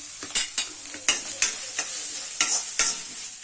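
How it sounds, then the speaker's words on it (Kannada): Chopped onion and green chilies fry in ginger garlic paste for idli manchurian, with an oily sizzle broken by a dozen sharp spatula scrapes and clinks against the pan at an uneven pace. "ಚಿಕ್ಕ ಚಿಕ್ಕದಾಗಿ ಕಟ್ ಮಾಡಿರೋ ಈರುಳ್ಳಿ ಮತ್ತೆ ಮೆಣಸಿನ್ಕಾಯಿ ಹಾಕೊಂಡಿದ್ದೀನಿ ಹಸಿಮೆಣಸಿನ್ಕಾಯಿ ಫ್ರೈ ಆಗಬೇಕು"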